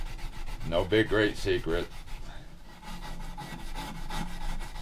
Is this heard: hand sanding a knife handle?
yes